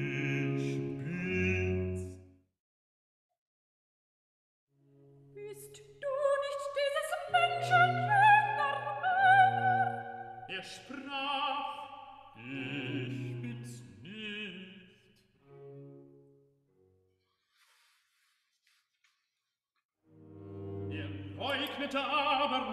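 Excerpt from Bach's St. John Passion at Peter's second denial: sung vocal lines with accompaniment, a short phrase, a fuller passage of several voices, then a pause and another entry, clear and alone.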